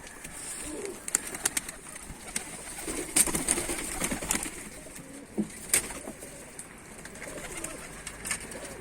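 Mardin pigeons coo softly outdoors with faint wing flaps and scattered bird calls, set against light background noise, moderately distant and intermittent.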